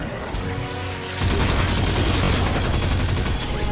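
Gunfire in the video game Destiny 2, a loud dense stream of rapid shots and booms that thickens after the first second and keeps going without pause.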